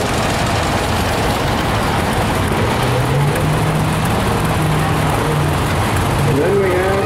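A 1938 John Deere D tractor engine runs in a parade at a steam and gas show, a steady low rumble beneath a loudspeaker announcer's voice and outdoor crowd noise.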